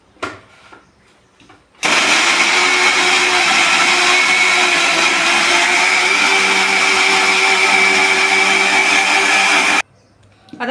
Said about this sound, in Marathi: ती आता मिक्सरमध्ये आपण फिरवून घेऊया